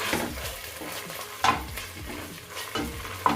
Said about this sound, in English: So I'm just stirring everything together until it's cooked a bit